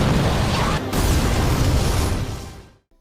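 A huge anime magic explosion roars out as a dense, loud blast of rumbling noise that holds for a couple of seconds, then fades away into silence.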